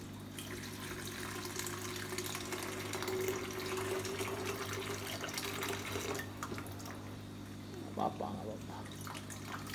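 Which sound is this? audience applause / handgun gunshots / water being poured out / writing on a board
water being poured out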